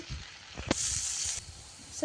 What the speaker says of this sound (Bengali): এখানে পেঁয়াজ ভাজাটা হয়ে আসছে, দেখতে পাচ্ছেন।